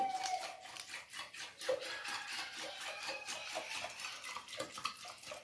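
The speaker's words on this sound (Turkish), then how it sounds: "Yağsı, tuzu ve şekeri birbirine iyice karışana kadar çırpıyorum" Oil, salt and sugar are whisked together in a bowl for a pastry dough, giving a steady fast scraping and clinking rhythm, close and fairly quiet.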